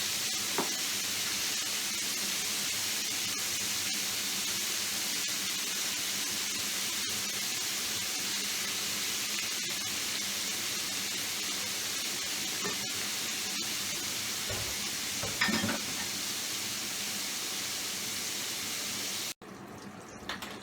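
Fillets of sole catfish deep frying in hot oil for Chinese-style salt and pepper fish: a continuous, even sizzle and bubbling for about twenty seconds, then an abrupt cut near the end, with no talking.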